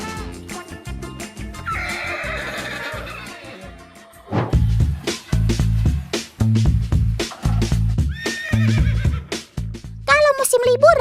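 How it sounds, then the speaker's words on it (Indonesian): An andong cart horse gives repeated high, wavering neighs mixed with snorting and clip-clop. A voice talks over the sounds for much of the time. "suara ringkikan ini merupakan bentuk meredakan kecemasan saat berpisah dengan kawanan atau sang perawat"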